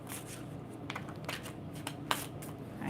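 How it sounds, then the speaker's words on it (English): Tarot cards are shuffled by hand in quick, soft riffling bursts, close and fairly quiet, with a few brighter snaps among the papery rustle and no talking. "let me do another shuffle"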